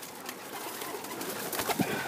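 Egyptian swift pigeon cooing softly over a steady background hiss, with a couple of brief low coos late in the moment, close but faint.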